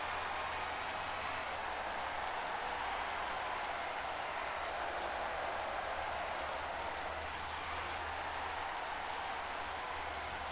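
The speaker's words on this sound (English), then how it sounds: "Wow, it's really raining." Steady rain hisses in a 1997 Formula 1 Championship Edition racing game, a dense even wash of noise with a faint low engine drone beneath, unbroken for the whole stretch.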